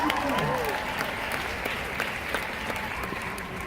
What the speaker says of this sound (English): It's a quiet applause. It's a golf applause.